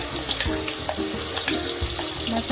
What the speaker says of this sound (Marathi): मी कढई ठेवली आहे, कढईमध्ये तेल टाकले, तेलामध्ये मसाला टाकून घेते।